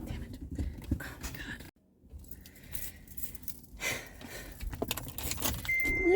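Jangling metal keys clink and rattle nearby in a quick burst before a short silence, then return in scattered jingles mixed with handling noise and a car interior's low rumble.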